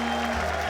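Audience applause greets Steve Madden at a crowd scene in a brokerage office, a dense steady wash of clapping throughout the short moment with a low hum underneath.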